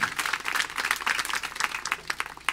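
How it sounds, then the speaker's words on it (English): Applause from a social justice forum audience greeting an arriving speaker: dense, steady crowd clapping at moderate volume for a couple of seconds, with no talk over it. "we will all turn towards her and we will give her a round of applause"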